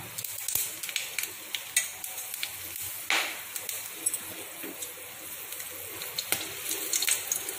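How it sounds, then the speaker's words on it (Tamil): Cinnamon and cloves crackle and sizzle in hot oil in a pan, with sharp pops and a steady fizz close by, and no one speaks. "எண்ணெய் சூடாயிடுச்சு பட்டை லவங்கத்தை போட்டுடலாம்"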